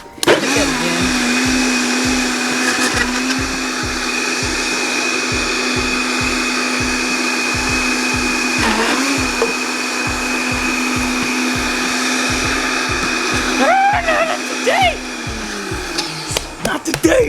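A blender whirs loud and steady for about seventeen seconds, churning a frozen protein shake with almond milk and a splash of water. It briefly falters midway and its pitch wavers near the end, with a voice speaking now and then.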